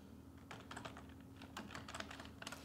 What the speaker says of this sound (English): we're just going to type